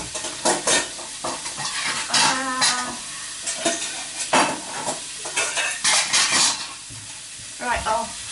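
Food sizzles in a home kitchen pan while a utensil repeatedly scrapes and clatters against it, the stirring strokes coming in irregular bursts over a steady frying hiss.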